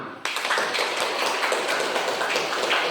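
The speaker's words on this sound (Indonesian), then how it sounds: "Kita kasih aplaus untuk kelompok 5." Classroom applause for student group five, a dense burst of many hands clapping that starts abruptly and continues evenly, fairly close and lively.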